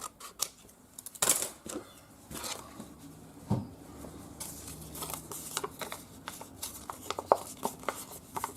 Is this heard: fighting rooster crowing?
no